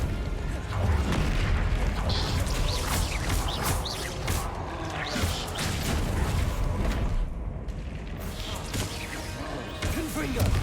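Repeated Confringo fire spell explosions in the Hogwarts Legacy video game boom and crash one after another, loud and close, amid whooshes and thuds of ongoing battle, with voices shouting over the din.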